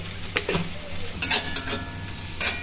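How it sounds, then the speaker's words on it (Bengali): Cauliflower mash with dried red chilli and a little sugar being stirred and sautéed in a pan, with soft sizzling and several scraping spatula strokes against the pan, close and fairly quiet. "একটু কষে নেওয়া হচ্ছে"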